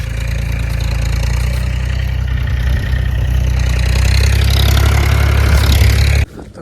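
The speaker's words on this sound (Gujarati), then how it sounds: "જમીન ખેડાય ટ્રેક્ટરની." A tractor ploughing a field for sowing rumbles loudly and steadily up close, its engine holding an even low drone before cutting off abruptly near the end.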